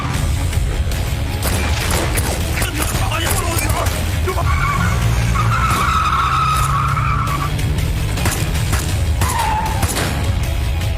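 A black car in a film arrives with loud skidding, screeching tires over a continuous engine rumble, with voices talking over the scene.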